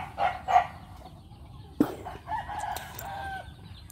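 A fighting rooster crows loudly nearby, one drawn-out call after a few short clucks, with faint background noise and no talk.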